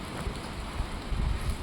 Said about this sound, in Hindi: तो अब बारिश के छींटे पड़ रहे हैं, आप देख सकते हैं।